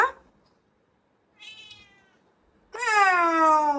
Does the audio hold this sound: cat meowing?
yes